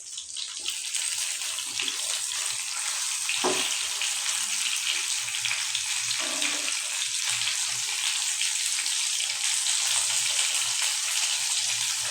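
Rohu fish fries in a pan with a loud, steady crackling sizzle that runs unbroken from start to finish, close up and with no voices.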